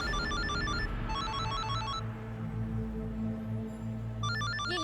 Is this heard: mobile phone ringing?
yes